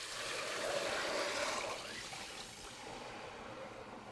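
Plain water pours into a pot for lentil soup, a soft, close splashing stream that swells for a second or so and then tapers into a faint, lingering trickle.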